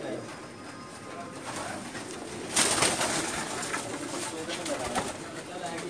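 Pakistani pigeons coo softly amid a busy loft, with wing flutters and a sharp burst partway through, and people talking in the background.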